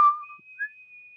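A person whistles a melody from a song, clear pure tones alone with no other sound, a short held note followed by a brief rising phrase and a long sustained pitch.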